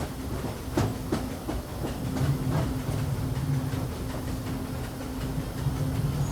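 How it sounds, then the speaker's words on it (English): A Disneyland Railroad train rolls along the rails at night with a steady rumble, a faint hiss and soft rhythmic clicks from the wheels, heard close and continuous at low volume. "please remain seated until the train comes to a complete stop"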